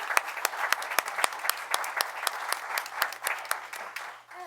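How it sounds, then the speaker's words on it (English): Audience applause at a town board meeting, a thin scattering of distinct claps from a small crowd, steady for several seconds then tapering off near the end. "So please give Allison a round of applause."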